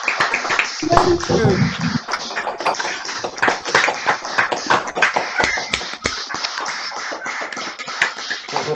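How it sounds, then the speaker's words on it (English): Members of an online audience on a video call, unmuted after a talk on the history of mumming, applause in a busy, uneven scatter of claps from many separate microphones. A voice briefly says thanks over it. "can you just unmute yourselves so that we can all give Stephen and anybody who asks a question a round of applause"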